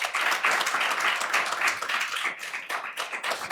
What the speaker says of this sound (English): Give Rosalyn Elder a round of applause